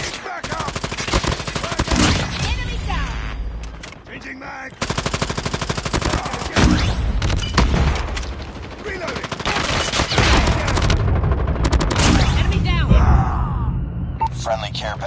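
Sustained automatic gunfire from a deployed sentry gun in the Call of Duty Mobile video game, loud and continuous bursts of rapid shots with brief gaps, mixed with other battle noise and game voice callouts.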